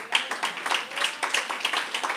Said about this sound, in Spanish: Así que dale un aplauso al Señor.